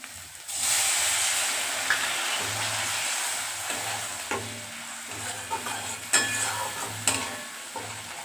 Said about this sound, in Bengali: মশলাটাকে ভালো করে কষিয়ে দেবো